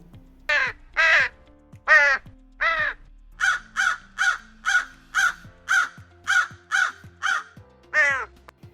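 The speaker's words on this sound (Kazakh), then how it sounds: "Бұл құс қарға. Қарға кар, кар, кар, кар, кар," A crow caws about a dozen times in a steady, evenly spaced series of harsh, loud calls, close by and clear, with no other sounds.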